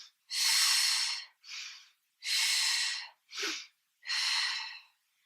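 Five loud, forceful breaths, each long exhale separated by brief pauses, taken while rocking on the back with knees hugged to the chest in a Pilates warm-up; close and clear, with no talk.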